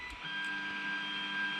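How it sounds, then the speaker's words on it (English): An Ender 3 Pro 3D printer moving its axes to auto home, with steady, quiet stepper-motor whine and faint mechanical clicks, close and continuous. "you'll notice that your 3D printer starts to move"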